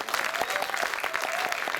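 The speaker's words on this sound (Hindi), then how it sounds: "हमने अभी चारों कवियों के लिए एक बार जोरदार तालियां हो जाए" An audience at a Hindi poetry evening claps vigorously for the poets, a dense burst of many hands applauding close and loud throughout.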